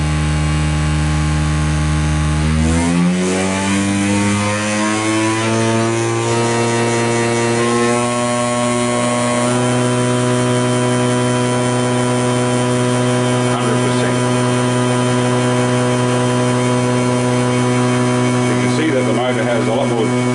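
A Banggood DC motor driven through a Banggood speed controller at 60% spins up over the first few seconds, its steady whine climbing in pitch, then holds a constant loud drone throughout.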